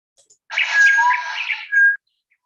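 A single recorded bird call: a bright, chirping tweet lasting about a second and a half, close and isolated against silence.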